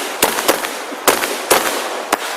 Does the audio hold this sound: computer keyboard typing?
no